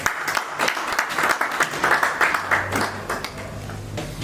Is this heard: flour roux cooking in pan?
no